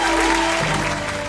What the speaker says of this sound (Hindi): जोरदार तालियां हो जाएं इस खूबसूरत परफॉर्मेंस